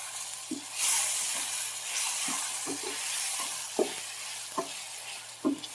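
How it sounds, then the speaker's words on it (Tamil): Brinjal sautéing in hot oil in a home kitchen, a soft continuous sizzle punctuated by intermittent scraping stirs of the pan, fairly quiet and close, with no voices. "இந்த எண்ணெயிலே இந்த கத்திரிக்காவை நல்லா வதக்கி எடுக்கணும்"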